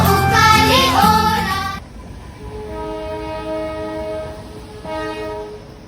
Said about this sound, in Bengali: পিছন থেকে আওয়াজ দিচ্ছে, দেখো টয় ট্রেন